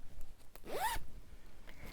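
A zipper on a fabric pouch with a ceramic bead pull, drawn once in a quick rising zip lasting under a second, close and fairly quiet against a faint background.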